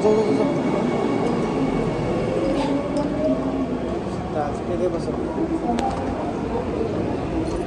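Rumbling interior of a moving metro train, a steady rolling drone with faint rail squeals, while people talk nearby.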